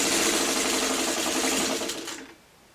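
A sewing machine stitches a quilt block in a fast, steady whirring run, close and clear, then slows and stops near the end.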